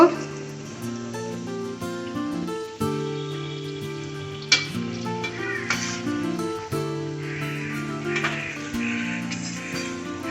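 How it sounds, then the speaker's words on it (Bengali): Kurkure chicken momos fry in oil over a low flame, with a steady bubbling sizzle under sustained background music and occasional sharper crackles and stirring clinks. "এগুলোকে হালকা আঁচে খুব ভালো করে ভেজে নেব।"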